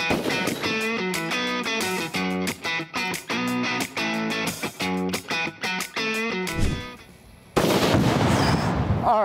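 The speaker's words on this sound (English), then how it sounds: "The Christensen Arms MCR, modern carbon rifle." A Christensen Arms MCR modern carbon rifle fires one loud, sharp shot from close by near the end, its blast rolling into a short echo after a stretch of rhythmic background music.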